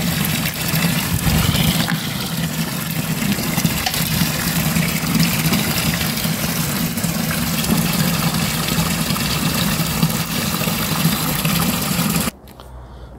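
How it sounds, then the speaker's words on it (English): Water runs steadily into a small Cosvalve washing machine as it is filled, a constant rushing flow with a low hum, loud and close, stopping abruptly near the end. "So if we fill it up to the L, I guess, with water, and then we can switch it on."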